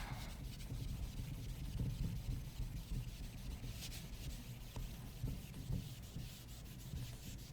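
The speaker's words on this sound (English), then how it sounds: "If I had a bigger eraser, this would be much easier" An eraser rubbing back and forth on paper, a soft continuous scrubbing with slight rhythmic pulses, close and fairly quiet with no talking.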